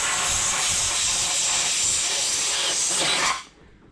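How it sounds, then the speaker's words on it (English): Compressed air from a nozzle blasts steadily in a loud, close hiss for about three seconds under the handlebar grip of a vintage Honda XL dirt bike, then cuts off abruptly. "give it a little air and it should pop right off"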